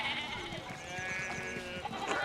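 Wavering, drawn-out bleats from escaped sheep in the video game Pentiment sound at moderate loudness over an even ambient bed, the calls overlapping with no talking.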